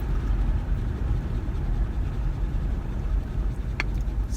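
A car on a ride produces a steady, close, low road-and-engine rumble from inside the cabin, continuous and even throughout, with a brief faint higher tone near the end.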